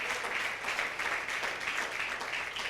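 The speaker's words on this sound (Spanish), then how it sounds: "Den un fuerte aplauso a Jesucristo" Applause from a church congregation after a prayer, a steady, moderately distant wash of many hands clapping that holds evenly throughout with no voices over it.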